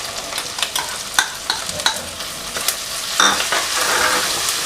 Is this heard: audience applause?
no